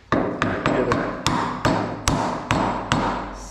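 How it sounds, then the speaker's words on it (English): A hammer taps a thin-wall 1-inch six-point socket into place during a performance kit install: eight sharp metallic taps at a steady, slightly uneven rhythm, close and loud, each ringing briefly. "Take a hammer or something."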